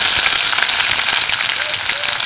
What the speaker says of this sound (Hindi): इसमें हम मिर्चा और प्याज को डाल देते हैं तड़का